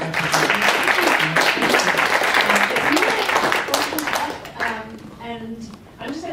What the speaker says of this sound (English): Can we get a round of applause for all of our people?